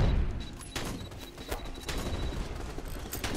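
Rifle gunfire in the VR Sniper Team co-op game, several sharp cracks scattered over a steady rumbling battle background, with a thin electronic tone running beneath.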